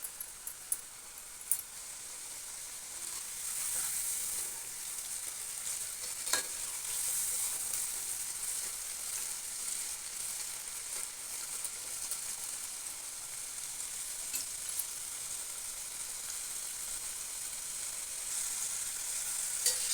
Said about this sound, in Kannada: ಸ್ವಲ್ಪ ಸ್ವಲ್ಪನೇ ಹಾಕಿ ಫ್ರೈ ಮಾಡ್ಕೊಳ್ಳೋಣ.